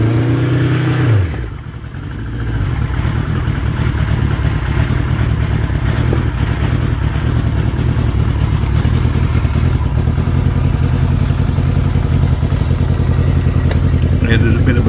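Australian-delivered 1976 Kawasaki Z900 motorcycle with modified exhaust baffles cranks, catches and settles into a slightly high, steady idle, a close, loud, even burble with a faint rattle from the left-hand exhaust.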